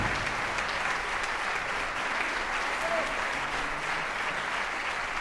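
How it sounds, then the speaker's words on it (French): An audience claps steadily after a Christmas charity concert, a thick continuous wash of applause filling the room with a faint voice underneath. "J'aimerais qu'on les applaudisse une nouvelle fois."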